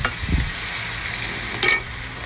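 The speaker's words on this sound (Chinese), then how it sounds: "炒出红油" Aromatics stir-frying in red chili oil with Lao Gan Ma, a constant loud sizzle broken by a couple of sharp spatula scrapes against the pot.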